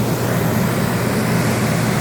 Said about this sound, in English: My generator is trying to kick on and it looks like it'll do it.